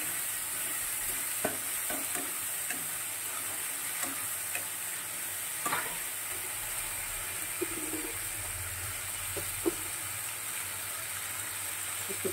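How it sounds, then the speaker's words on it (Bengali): Potatoes fry in a pan with ginger and cumin paste stirred in, giving a steady close sizzle with scattered scraping and tapping of a spatula throughout. "এদিকে দেখো আলুটা সুন্দর ভাজা হয়ে গেছে"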